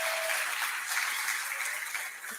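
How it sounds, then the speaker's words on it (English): Applause from a gala audience for the participants in a documentary, a moderate, steady wash of clapping that fades slightly toward the end. "So give a round of applause for everybody that took part in that documentary."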